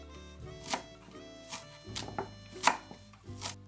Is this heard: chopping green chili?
yes